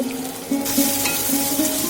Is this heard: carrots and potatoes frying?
yes